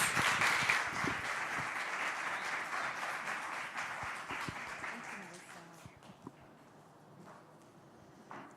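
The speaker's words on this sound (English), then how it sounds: "Let's give them a big round of applause" A crowd at an Old Mutual Indaba event gives the trainers a big round of applause, dense clapping that holds for about five seconds and then thins out into scattered claps and quiet room noise.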